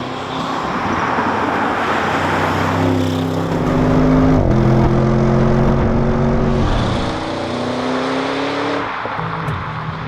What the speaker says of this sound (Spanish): puedes incluso oír cómo soplan los turbos